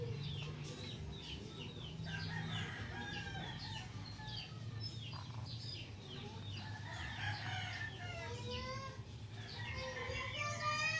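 A rooster crows and hens cluck repeatedly in the Birds and Beasts casino game, fairly faint calls layered over a low steady background hum.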